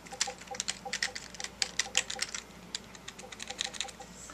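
Rapid typing on a USB computer keyboard plugged into an Xbox 360: a dense, uneven run of crisp plastic key clicks, close and fairly loud, with no voices.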